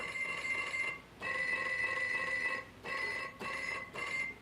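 A ringing telephone-style ringtone sounds in bursts, a long ring then two shorter rings with brief gaps, loud and close with no talking.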